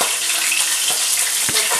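Fish fries in a pan for a Szechuan spicy dish, giving off a steady, close hiss of bubbling oil with a couple of brief clinks or scrapes.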